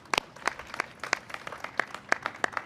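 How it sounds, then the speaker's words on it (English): A small audience at a Lieutenant Governor's press conference on main streets gives scattered, sparse claps, a handful of distinct hand strikes spread over under three seconds, close and crisp. "that's worth clapping for."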